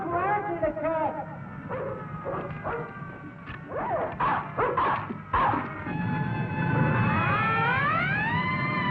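A mad dog barking and yipping in an old film scene, with shouting voices over much of it and a siren-like whine rising toward the end.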